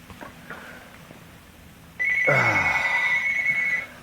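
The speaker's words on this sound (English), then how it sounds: "This phone is constantly ringing here." A telephone ringing indoors, a sustained bright electronic ring that starts suddenly after quiet room tone and holds for nearly two seconds before cutting off, with no talk over it.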